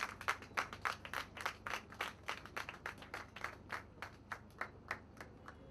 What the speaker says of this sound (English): Can we hear a louder round of applause for her?